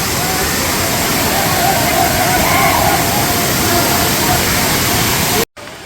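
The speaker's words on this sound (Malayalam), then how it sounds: "അത്ര വലിയ വെള്ളച്ചാട്ടം പരിപാടിയൊന്നും ഇല്ലെങ്കിലും സംഭവം കൊള്ളാം" The Thirparappu waterfall pours in a loud, constant rushing roar close by, filling the whole clip before cutting off abruptly near the end.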